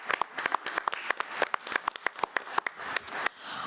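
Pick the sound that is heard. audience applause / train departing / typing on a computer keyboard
audience applause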